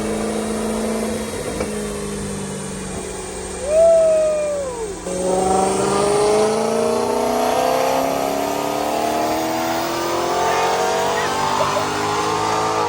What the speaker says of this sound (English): You don't realise how loud the Maserati is until you're outside